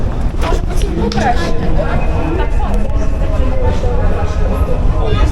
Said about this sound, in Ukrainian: Рушив, я вже в поїзді.